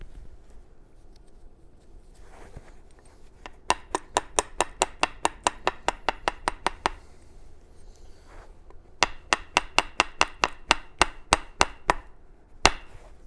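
A Utah jasper point is trimmed and shaped by flintknapping, with sharp, crisp taps striking in two quick rhythmic runs of about a dozen hits each and short pauses between, close and clear with no talking.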